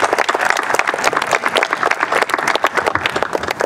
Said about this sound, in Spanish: Un aplauso para Julián, por favor.